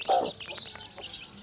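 Newly hatched Bhimavaram breed chicks give a handful of thin, high peeps and cheeps, close and fairly faint, scattered over a second and a half.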